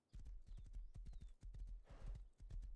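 Horse hooves clip-clop rhythmically in the survival video game Rust, a quick steady trot of close, thudding beats with a brief breathy snort partway through.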